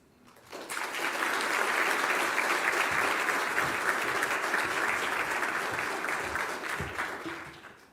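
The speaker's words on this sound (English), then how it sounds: "Please join me in a round of applause for these outstanding individuals" An audience applauds the honored principals at a state principal of the year award ceremony, swelling quickly into full, dense clapping that holds steady for several seconds and then fades away.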